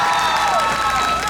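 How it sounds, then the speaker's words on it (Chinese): An outdoor concert audience at a railway culture festival in Chaozhou, Pingtung, with a wind band on stage, claps and cheers in a dense, continuous wash of applause and voices. "我们再给他掌声加尖叫声好吗"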